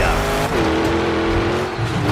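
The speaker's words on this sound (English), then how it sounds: "We're gonna watch our drivers go mano a mano, 1v1, and see who can come out the fastest monster truck today." Monster trucks race head to head at a racing and freestyle event, with engines roaring loud and steady and a sustained rising-then-level engine whine, as a commentator's voice carries over the noise.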